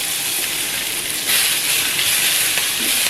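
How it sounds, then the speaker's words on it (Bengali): Onions with black cumin fry in hot oil in a pan for a Bengali fish and poppy-seed dish, giving a steady, close sizzling hiss throughout that brightens slightly midway, with no talking. "পেঁয়াজটা একটুখানি ভাজা হোক।"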